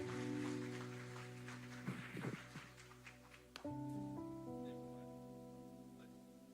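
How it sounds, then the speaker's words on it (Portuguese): Audience applause at a church conference: a dense patter of clapping rises under sustained keyboard music, then fades after a few seconds while the music carries on. "Obrigado por esse aplauso."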